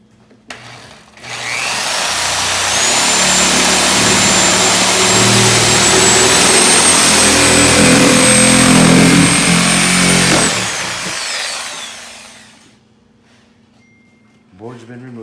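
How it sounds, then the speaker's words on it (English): A power tool chops a wooden backboard, about half to three-quarter inch thick, out of a red stag shoulder mount pedestal. It makes a loud, steady, roaring whine that runs for about eleven seconds, then cuts off. "So Dan's gonna chop that board out of there."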